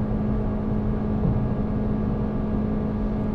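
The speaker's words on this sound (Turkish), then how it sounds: "Hala dip gaz gittiğim için böyle ses duyuyorsunuz." A 2019 Toyota Corolla with a CVT driven at full throttle at high motorway speed, giving a continuous droning engine whir with a steady tone and road roar inside the cabin.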